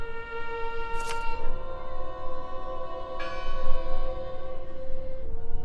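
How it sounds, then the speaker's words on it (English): A church bell in the video game Draugen tolls twice, each strike sharp and then ringing on in a long, humming decay over a faint ambient background. "Listen! The bell!"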